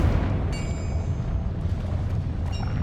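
A Confringo blasting spell explodes in Hogwarts Legacy, a loud, dense rumbling boom that fills the moment with sharp crackling bursts layered over a heavy low roar.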